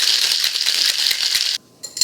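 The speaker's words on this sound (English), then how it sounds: "Now you can optionally shake it with ice." A lavender lemon shandy cocktail is shaken hard with ice in a shaker, giving a loud, fast rattling of cubes that stops sharply near the end and then resumes briefly.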